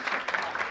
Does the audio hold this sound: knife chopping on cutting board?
no